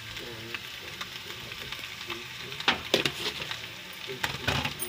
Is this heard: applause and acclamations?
no